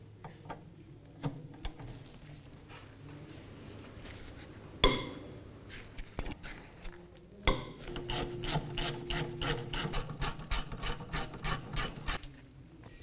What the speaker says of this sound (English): with a 14 millimeter socket, we're gonna go ahead and back out these two bolts and remove our caliper bracket